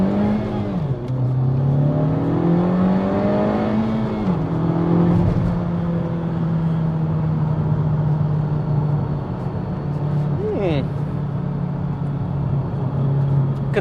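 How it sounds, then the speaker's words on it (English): A Honda Civic Type R FK2 with a 306 bhp VTEC turbo engine, around 30,000 miles, accelerating hard on a drag run, its engine note rising steadily through the gears with brief dips at each upshift, loud and close throughout. "So we'll try a draggy run here."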